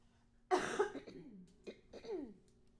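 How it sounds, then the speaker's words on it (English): Someone clears their throat several times in short, harsh bursts, close to the microphone, with brief pauses between them. "I just have to clear my throat"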